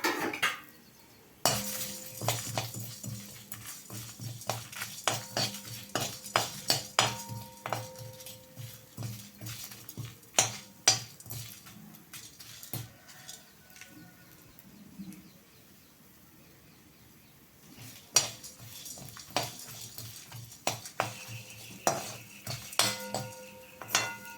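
Fennel, dried chili and coriander dry roasting in a pan, a metal spoon clinking and scraping against it in a steady, irregular rhythm of sharp knocks, with a short quiet pause midway and no talking.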